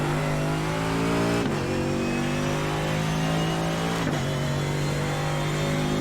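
A Mercedes AMG GT3 race car screams at high revs around Road Atlanta, a loud sustained engine note with two sharp upshift breaks, close and continuous, no talk.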